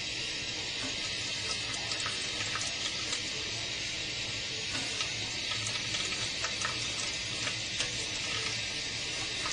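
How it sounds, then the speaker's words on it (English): Warm water runs steadily from a kitchen tap while a meatloaf is being made, a continuous close hiss and splash that carries on unbroken from start to finish with no voices. "Get some warm water, but you don't want it coming out real fast."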